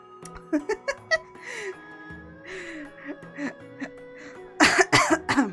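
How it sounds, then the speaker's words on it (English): A burst of rapid, harsh coughs opens, followed by wheezy breaths and throat sounds, then another loud cluster of coughing near the end. "Sometimes when I laugh a lot, I start coughing."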